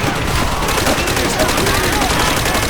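Gunfire blasts in Call of Duty: World at War, a prisoner-escape mission. Loud, dense shots rattle continuously in rapid bursts with no pause.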